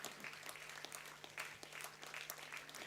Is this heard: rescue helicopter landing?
no